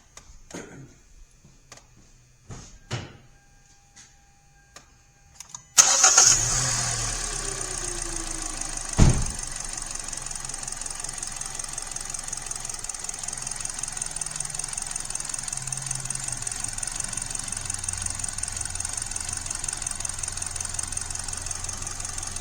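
A misfiring Hyundai engine cranks over after a quiet stretch of faint clicks, catches, then settles into a steady idle with a slightly uneven, knocking hum that carries on loud and close.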